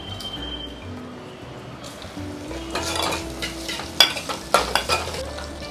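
Mustard seeds, cumin and broken dry red chillies tempering in hot oil: a steady frying sizzle that swells in the middle, with stirring and a few sharp clinks of a spoon against the pan near the end.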